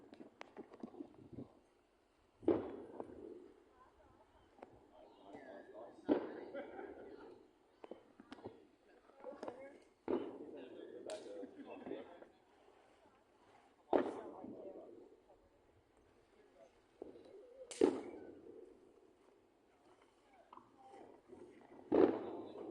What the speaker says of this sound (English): There's a firework over there.